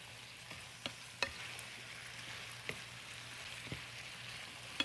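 Cauliflower and pork frying in a pan, a soft steady sizzle with a low hum beneath and occasional sharp ticks and pops from stirring, faint and close.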